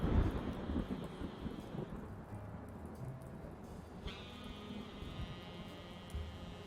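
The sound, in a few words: thunderstorm in the video game Blacksad: Under the Skin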